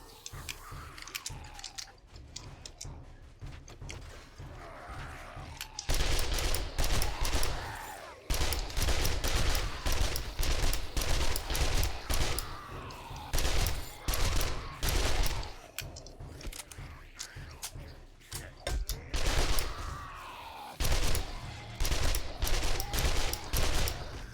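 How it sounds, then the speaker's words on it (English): Rapid short bursts of automatic gunfire in the survival video game 7 Days to Die, two or three rounds at a time, repeating in clusters with brief pauses between them. "Short bursts, 2 or 3 rounds per shot."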